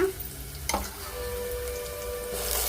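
Green chillies and onions fry in a pan for chicken gravy, a soft, steady sizzle with one brief clunk of a utensil early on, close but quiet.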